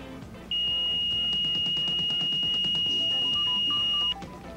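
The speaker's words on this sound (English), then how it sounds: "Its alarm is a high-pitched whistle." Edmont Wilson oxygen monitor alarm worn at waist level, sounding a steady, piercing high-pitched whistle that holds for about three and a half seconds over faint background noise.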